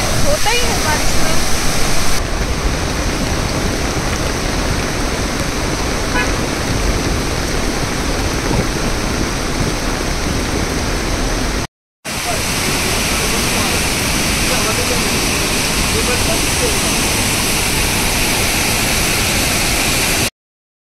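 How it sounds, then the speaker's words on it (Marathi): Savari waterfall in Netravali sanctuary, South Goa, roars with a loud, continuous, even rush of falling water, broken only by a brief cut partway through. "नेत्रावळी अभयारण्य आणि सावरी धबधबा प्रवास"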